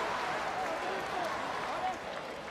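Rugby crowd at an Italy versus Wales under-20 Six Nations match in northeastern Italy, a faint, steady wash of cheering and noise from a distant stand that swells slightly and then eases, with a voice faintly underneath.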